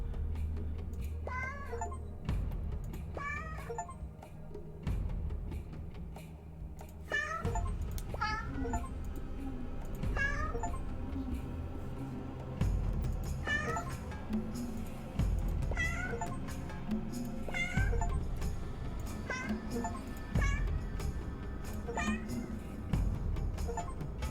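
Cartoonish cat meows from the video game 100 Cats repeat every second or two, clear and upfront, over a steady looping background music track.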